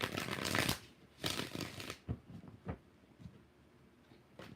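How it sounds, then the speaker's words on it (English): Tarot cards are being shuffled close up, with two longer riffling bursts followed by several short, soft snaps and taps in a quiet room. "Let's do one more shuffle."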